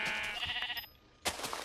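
A sheep in Minecraft bleats in short, wavering calls, close and clear, with a brief pause before another sharp bleat.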